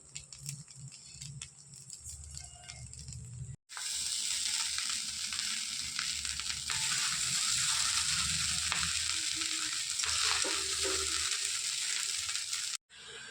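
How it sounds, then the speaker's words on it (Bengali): Fried rice sizzles and crackles steadily in a hot pan, loud and continuous with stirring scrapes, briefly cutting out twice, with no talking. "এবার এটাকে ভালো করে আমি রাইসটাকে ভেজে নেব"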